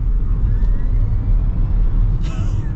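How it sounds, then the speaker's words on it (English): A Rivian R1S electric SUV accelerates, heard from inside the cabin as a loud, steady low road and motor rumble with a faint rising whine. "Wow, this thing moves. That is an acceleration."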